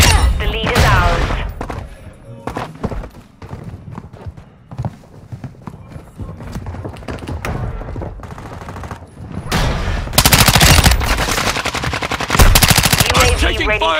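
Machine gun fire in a video game: long stretches of rapid, loud automatic bursts with dense rattling and clatter, thinning in the middle and then surging back heavy and close.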